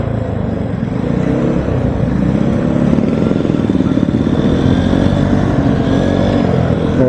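A Vespa Sprint scooter being ridden: a loud, steady engine drone with constant road and wind rumble and no pauses, heard from the rider's position.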